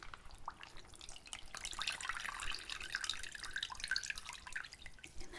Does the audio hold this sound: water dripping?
yes